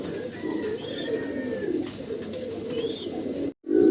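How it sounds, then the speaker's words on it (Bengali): A master pair of Dragon pigeons on a farm coo in low, repeated rolling calls at close range, with soft chirps above them, then a brief dropout before a louder coo at the end. "ড্রাগন কবুতর দেখাচ্ছি আপনাদেরকে"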